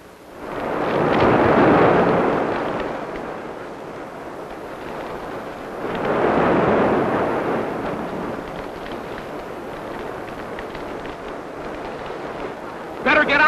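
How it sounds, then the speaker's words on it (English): A large granary burning in a fire gives off a deep, roaring rumble that swells loudly twice, then settles into a sustained, dense roar. "It's a big granary going up."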